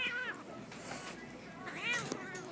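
Cats fighting give drawn-out yowls and caterwauls with a brief harsh hiss, fairly faint and distant, with a person speaking softly in the background.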